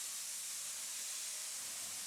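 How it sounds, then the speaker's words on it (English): A spray gun hisses steadily while painting a car's fenders and bonnet, a continuous even airy spray with no breaks and no talking. "You have to spray the fenders and the bonnet in one step"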